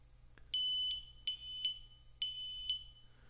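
A NAVAC NLM1 refrigerant leak detector for R-410A sounds its alarm as a series of five sharp, high electronic beeps in an uneven rhythm, close and alone with no talking.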